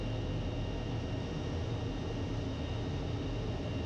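An A-4 Skyhawk jet, heard from the cockpit, taxis slowly along a runway at an airshow. A constant dense roar of engine and air noise carries evenly from start to finish, with no talk.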